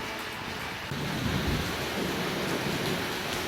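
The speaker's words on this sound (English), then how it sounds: "it's July and we're in one of our thunderstorms here in Florida" A July thunderstorm in Florida pours steady heavy rain, with a deep rumble of thunder rising after the first second, and the storm noise continues loud and dense throughout.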